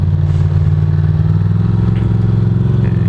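Ducati Monster motorcycle engine pulling away in first gear, a steady close loud low rumble with a slightly choppy, uneven throb and no talk.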